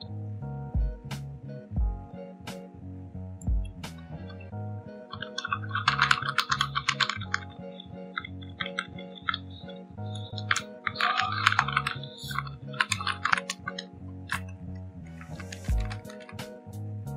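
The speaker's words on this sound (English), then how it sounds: "just hit any key on your keyboard" Keys tapped on a computer keyboard in irregular bursts of clicks, some fast runs and some single presses, close and fairly clear over a steady low hum, with no one talking.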